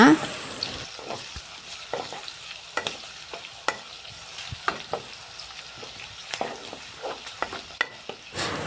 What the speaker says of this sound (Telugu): కచాపచాగా దంచుకున్న ఆనియన్స్ అనేది వేపుకుంటున్నా తర్వాతకి పచ్చిమిర్చి కూడా వేసుకొని బాగా ఫ్రై చేసుకోవాలి